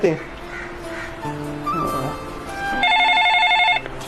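A phone rings with a repeating electronic tone that grows louder near the end, while voices talk in the background.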